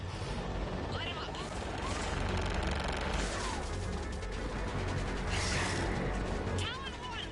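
Gunfire and explosions crackle through a Mass Effect cutscene as attack craft open fire on ground targets, forming a dense, loud, continuous barrage with voices and radio chatter mixed in.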